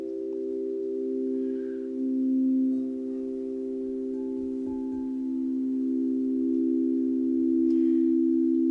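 A set of Empyrean crystal singing bowls rings several steady harmonics together, a sustained, smooth and loud drone that holds without a break, with only faint background noise.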